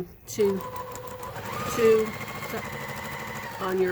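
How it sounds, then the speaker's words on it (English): A sewing machine stitches a quarter-inch seam on a quilt block in a steady, close mechanical whirr, stopping and restarting briefly, while a person talks over it. "so now we're going to just stitch these 1/4 of an inch"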